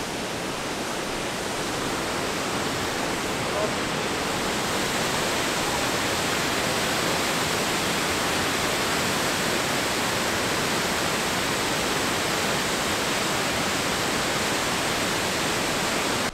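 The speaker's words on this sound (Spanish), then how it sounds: "esto es lo más cerca que vamos a estar de la cascada el día de hoy" A waterfall's steady, dense roar fills the whole stretch, a constant broadband rush of falling water with no pauses or voices.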